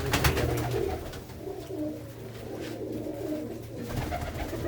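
Pigeons coo in a loft, their soft, low, rolling calls overlapping close by against a steady background hum.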